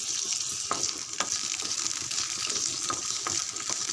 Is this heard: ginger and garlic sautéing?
yes